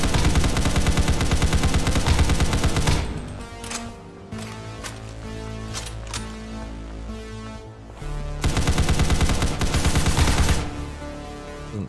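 Sustained automatic gunfire in a Roblox game, loud rapid bursts of shots at close range that pause briefly in the middle before firing resumes in another heavy burst.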